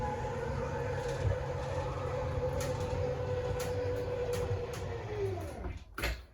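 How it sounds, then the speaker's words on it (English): Electric slide-out motors on a 2024 Wildwood 24 View travel trailer whine steadily at close range under a low rumble, then cut out near the end with a brief clunk. "Once fully extended, you can hear those motors wind up and then cut out."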